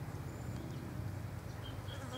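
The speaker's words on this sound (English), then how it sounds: "I've got a mosquito eating my leg." A thin, steady insect buzz hums close by, a mosquito whining continuously outdoors among low background noise, with no talking.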